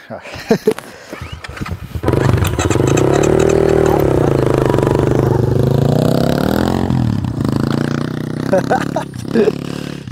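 BamX motorcycle ridden on a mountain trail, its engine rising into a loud, sustained revving drone that holds steady for several seconds before dropping back, with scattered knocks and rattles around it.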